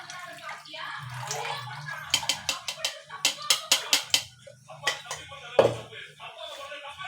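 Two tumblers of water poured into a pan of semolina in a home kitchen: a brief splash, then a run of sharp knocks and clinks from the vessels, close and moderately loud.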